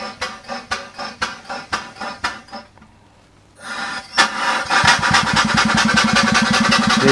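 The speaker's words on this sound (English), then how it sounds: "Makes nice steam engine type noises." Model steam engine running on compressed air gives a steady series of chuffing puffs, pauses to near silence, then runs again faster with a dense, continuous rapid chuff, close and fairly loud.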